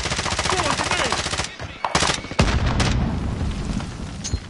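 Grenade explosion and gunfire in a Call of Duty video game: rapid, loud machine-gun bursts, then a short gap and a sharp heavy boom followed by rumbling crackle and scattered shots, close and intense.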